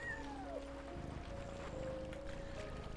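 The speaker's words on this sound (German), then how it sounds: "Und ein Kätzchen." Kitten meowing in the video game Yonder The Cloud Catcher Chronicles, a short high mewing call near the start over quiet ambient game sound and faint background tones.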